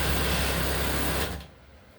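A Jack Zig-Zag 20U semi-industrial sewing machine runs at 2000 stitches per minute, a loud, steady, dense mechanical whir close by that holds evenly for over a second before quickly winding down to near silence.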